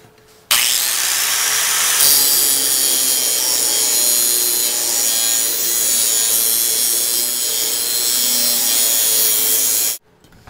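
Power tool cutting along the edge of a metal door skin, steady loud grinding-rasp running nonstop for about nine seconds before cutting off abruptly.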